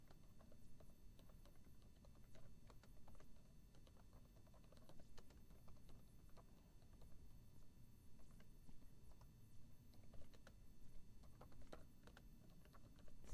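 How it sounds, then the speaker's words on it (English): Fingers type on a computer keyboard, a quiet, continuous run of small clicky taps over a low steady background hum, with no voices. "so you can see I'm typing"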